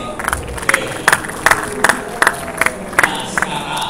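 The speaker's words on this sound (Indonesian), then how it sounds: "Beri aplaus dulu buat Eli" An audience gives short, scattered applause for Eli in an indoor session, with bursts of clapping coming in an uneven rhythm, moderately loud, alongside faint crowd murmur.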